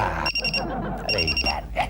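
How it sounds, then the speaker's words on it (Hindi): Several alarm clocks in a home ring in quick, repeated electronic beeping bursts, loud and close, while people talk over them. "इसका अलार्म बंद करो तो उसका अलार्म शुरू होता है, उसका बंद करो तो इसका शुरू हो जाता है।"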